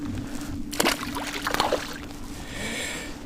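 A caught pike thrashes at the surface during a Wisconsin fishing trip, throwing two or three sharp, close splashes of water, then quieter sloshing.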